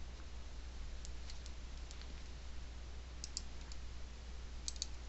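A computer mouse gives a few faint, scattered clicks, some in quick pairs, over a low steady hum, with no voices.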